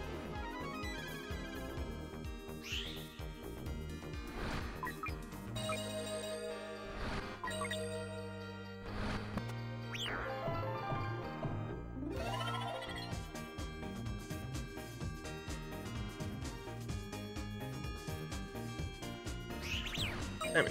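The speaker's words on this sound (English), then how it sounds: "We're hearing a lot of jingle bells today, aren't we, chat?" Jingle bells in the Christmas Nights Into Dreams video game, bright tinkling chimes layered over festive music, ringing repeatedly throughout with a few sparkling rising flourishes.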